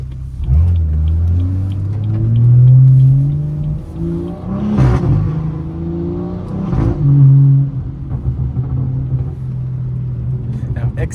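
BMW 340i with XHP shift tune pulling through gears, engine droning and rising in steady revs with two sharp shift cracks in the middle, close and loud, with people talking over it.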